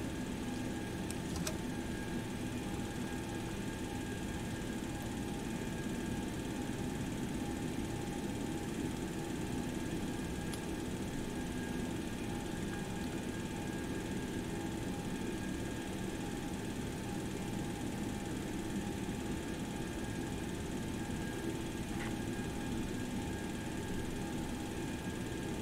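Boeing 727 jet engine starting up in the X-Plane flight simulator, a steady broadband whine and rumble with tonal hums that hold constant, heard alone without talk.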